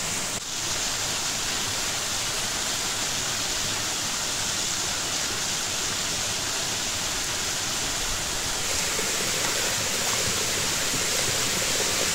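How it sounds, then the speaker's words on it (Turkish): The Hacılı waterfall and its flowing stream make a dense, continuous roar of rushing water, loud and close, without pause. "Suyun sesini dinleyin."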